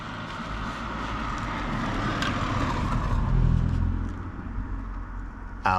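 Cars drive past and turn around at night at a roadside parking spot, their engines rising into a steady rumble that swells, peaks and fades, with a sharp burst at the very end.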